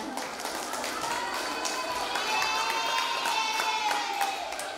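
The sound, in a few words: applause for a school class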